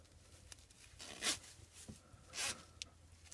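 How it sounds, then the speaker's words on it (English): A zipper on a beekeeping suit veil is pulled in a few quick, close rasping strokes, with quiet pauses between them and no talk. "pull that zipper all the way over"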